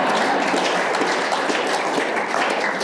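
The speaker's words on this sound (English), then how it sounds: "You're not gonna clap?" Clapping from the audience at a poetry reading, a full, even patter of many hands held at steady loudness for the whole stretch, with nothing else heard over it.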